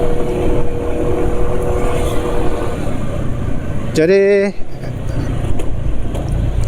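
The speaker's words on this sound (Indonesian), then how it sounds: "suara mesin sudah enggak halus lagi delingnya" A motorcycle engine, running rough from poor-quality oil, drones roughly and unevenly throughout, a brief higher mechanical whine cutting in partway, with a voice speaking briefly.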